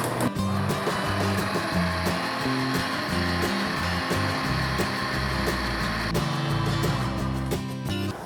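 A kitchen blender whirs steadily while mixing cake batter with wheat flour and fine cornmeal, a loud continuous motor drone with shifting pitch as the jar contents churn, heard alone without speech.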